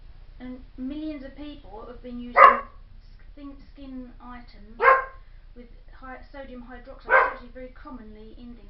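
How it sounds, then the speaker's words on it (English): A dog barks at someone near the door: three sharp, loud barks spaced a couple of seconds apart, heard over a person talking steadily nearby. "That's my dog barking at anyone near the door"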